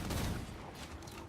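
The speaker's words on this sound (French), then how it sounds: "Ça fait comme si c'était un gros canon qui tirait le bruit." Heavy cannon fire in the fantasy strategy battle game Total War: Warhammer 2, a dense, continuous roar of booming shots and crackling volleys, loudest at the start and staying full throughout.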